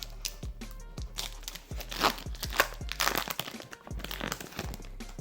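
Pokémon booster pack wrapper being torn open from the bottom, close and crisp, with a run of sharp crinkles, cracks and crunching foil tears spread over several seconds, no talking.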